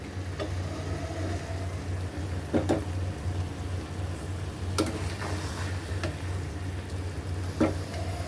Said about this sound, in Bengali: আমি মাছটা কিছুক্ষণ কষাবো এই মশলাটা দিয়ে